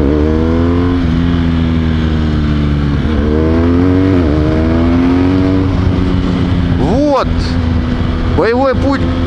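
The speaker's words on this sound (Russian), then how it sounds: "Едет что-то Дусати, похоже, какой-то, да?" A Ducati motorcycle rides past at night on a Moscow street, its engine rising and falling in pitch as it nears and recedes, heard over the loud steady drone of another motorcycle running close by.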